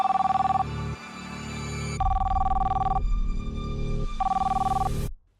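A mobile phone rings with an incoming call, its electronic ringtone repeating in short bright bursts several times, loud and close, alone with no talk, then cutting off abruptly.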